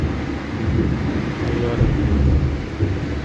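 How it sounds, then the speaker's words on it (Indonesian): Heavy rain and rolling thunder outside a building, heard from inside as a dense, steady low rumble and wash of noise, fairly loud and continuous without speech. "Di luar hujan sangat besar sekali sampai suaranya masuk ke dalam."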